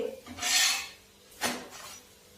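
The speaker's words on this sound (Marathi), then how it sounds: "कडेला परत थोडस तेल टाकून घेऊया पराठा आपल्याला असा खरपूस भाजून घ्यायचा आहे" Fenugreek paratha roasting in oil on a hot pan, with two short scraping, rasping strokes of a spatula against the pan and a soft sizzle between them, close and clear without talk.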